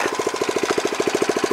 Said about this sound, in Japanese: フォーサイクルだからトルクがあるんでかなり向かってても進みます。